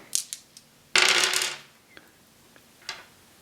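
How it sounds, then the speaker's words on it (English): Four dice rolled in the space board game Tiny Epic Galaxies: a few light clicks, then one bright rattling tumble that settles, with a couple of small taps after, close and fairly quiet, no talking. "So I'll roll 4 dice."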